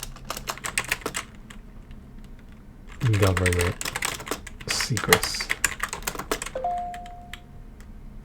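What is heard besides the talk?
typing on a keyboard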